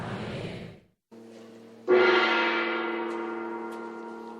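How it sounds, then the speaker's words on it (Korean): A gong is struck three times in a church service, each hit ringing into a sustained metallic hum; the final strike is loudest and slowly fades. "세 번의 징 소리가 울리며"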